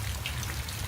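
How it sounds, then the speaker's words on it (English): Rain falling as a radio drama effect, a dense, steady hiss of drops with a low rumble underneath, brief and continuous, no voices. "It's rain."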